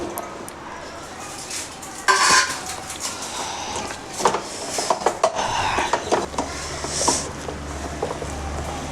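Mushrooms being mixed by hand into a spiced batter in a bowl for mushroom 65, with close, uneven clinks, taps and soft squelching scrapes that come in short irregular bursts.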